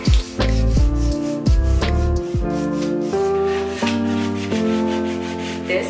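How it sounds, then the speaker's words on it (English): Sandpaper rubs steadily across an old wooden tabletop, close and loud, in a run of repeated back-and-forth strokes with short breaks between passes. "First, we are going to sand it and then start with the painting."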